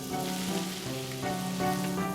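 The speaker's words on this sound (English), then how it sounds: "When it's sizzling nicely" Steady sizzling and crackling of butter and oil in a hot pan, continuous and close, with a low hum underneath.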